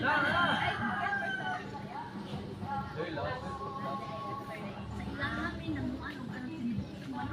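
A rooster crows repeatedly amid a busy, noisy background with people talking and other farm sounds.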